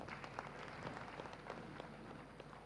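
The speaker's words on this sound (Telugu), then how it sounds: "ఒకసారి మళ్ళీ గట్టిగా చప్పట్లు కొడతాం మేడంకి." An audience applauds a woman at a Patriji Pyramid Jagat event, giving a steady, fairly faint wash of many hands clapping with no voices over it.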